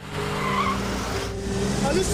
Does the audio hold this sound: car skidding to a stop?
yes